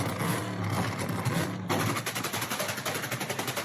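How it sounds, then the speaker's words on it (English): A Dodge Hellcat's exhaust is heard loud and close, with a rapid, stuttering popping that sounds like gunfire. It shifts into an even, pulsing idle partway through. "Yo, that's a crazy exhaust, I've got to say. Hellcat is crazy"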